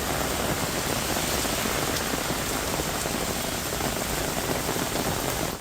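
Heavy night rain pours down across Hyderabad in a dense, loud, unbroken roar of drops striking the surfaces close by.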